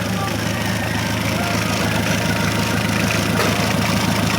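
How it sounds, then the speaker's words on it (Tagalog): A newly overhauled Hyundai D4BB diesel engine in a Hyundai H100 van idles steadily and loudly up close, a constant knocking rumble with no change in pace. "Bagong overhaul. Hyundai X100 V4BB ang makina."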